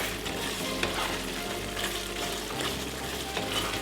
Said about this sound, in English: we are going to add our little baby eggplants. Give it a little stir.